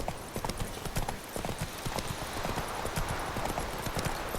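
Steady clip-clop of horse hooves trotting along a hard road in The Witcher 3: Wild Hunt, evenly paced and close, with a faint game ambience behind.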